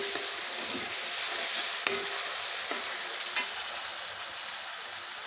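A spiced masala paste fries in a pan for an egg curry, giving a steady close sizzle with a few sharp stirring clicks and scrapes and no voices.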